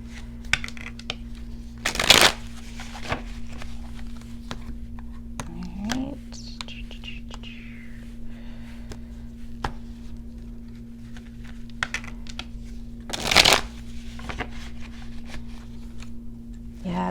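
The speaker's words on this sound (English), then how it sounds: "I'm going to shuffle these again." Tarot cards being shuffled by hand in a quiet room, giving two short, dense riffling bursts separated by a long stretch of soft, faint handling noise beneath a steady low hum.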